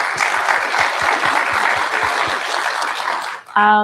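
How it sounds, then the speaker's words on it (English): Audience at a cultural panel discussion on Selma claps steadily in a loud, dense burst lasting several seconds, cut off near the end by a short tonal sound. "round of applause for that"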